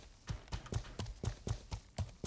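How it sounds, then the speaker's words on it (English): Horse hooves clip-clop in a video game, an evenly paced series of about nine close, crisp knocks at roughly four per second. "I hear a horse."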